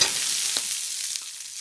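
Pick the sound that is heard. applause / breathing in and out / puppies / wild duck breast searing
wild duck breast searing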